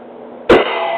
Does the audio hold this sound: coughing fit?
yes